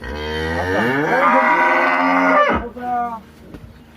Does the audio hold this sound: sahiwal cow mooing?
yes